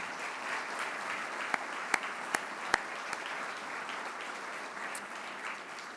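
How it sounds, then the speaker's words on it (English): Sustained polite golf-clap applause from a crowd in a ballroom at an LPGA awards ceremony, steady and moderate, with a few sharper individual claps standing out partway through. "let's give those great champions one more proper golf clap"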